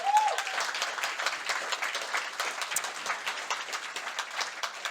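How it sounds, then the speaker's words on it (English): At the close of a NATO youth summit, the audience gives a round of applause to the moderators, with crisp, continuous clapping from a roomful of people lasting several seconds. "Round of applause."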